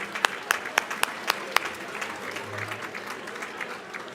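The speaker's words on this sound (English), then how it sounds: "can we give a round of applause for the staff, everybody involved with food service?" Diners at a school athletic hall of fame gala applaud the food service staff, starting with a few sharp, separate claps that blend into softer, scattered clapping and crowd murmur.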